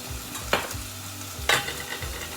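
Lamb stew meat being stirred in a pot with salt, pepper and green chilies, two scraping stirs about a second apart over a low steady sizzle, close and fairly quiet with no talk.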